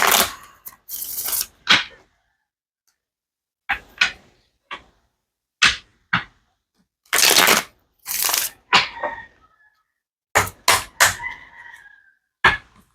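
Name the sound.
shuffling Stained Glass Tarot cards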